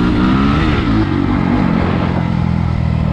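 A 2022 SSR SR300 dirt bike engine revs hard during a wheelie, a loud, close, buzzing roar holding steady with a rough clattering edge and wind noise.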